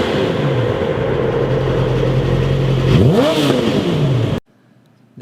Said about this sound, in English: the Lexus LFA has the best sounding V10 of all time